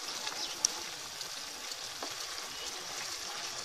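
Chicken karahi gets mixed and fried in a wok, a steady close sizzle with faint stirring scrapes and one small clink early on, no voices.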